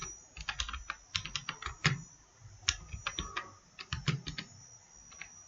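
Quick bursts of clicking keystrokes on a computer keyboard, close and fairly quiet, coming in short irregular runs with brief pauses between words.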